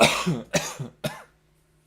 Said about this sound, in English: should get a pillow to smother myself in when I cough